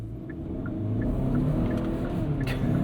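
A 2023 Hyundai Santa Cruz pickup's engine under hard acceleration, a steady low rumble that builds gradually in loudness while the vehicle is driven spiritedly, with no voices over it.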